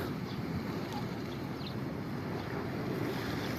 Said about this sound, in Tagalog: so dagat siya guys, ayan po